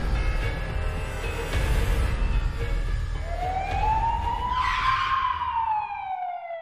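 An ambulance siren wails over road rumble, rising in a long sweeping tone that grows louder toward the end and then cuts off abruptly.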